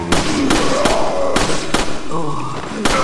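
Explosions and impacts in Resident Evil 4, loud sharp bangs and thumps repeating several times, with voices shouting and game sounds mixed in.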